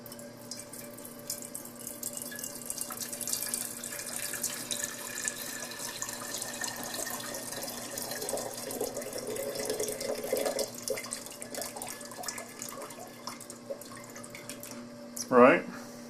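Liquid poured into the container of a Ninja Slushi machine, a steady running, tap-like stream with light dripping throughout, ending in a brief louder splash or clunk, with a voice faintly present.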